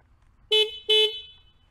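A Honda CB750 Hornet motorcycle horn gives two short, loud honks close by, each about a third of a second with a bright, buzzy tone, separated by a brief gap and heard alone.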